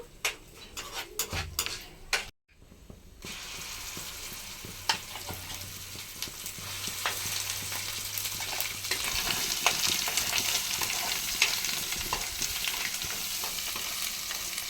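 Spices tempering in hot oil for ivy gourd chutney, an even close sizzle with crackling pops and spoon taps after an opening clatter.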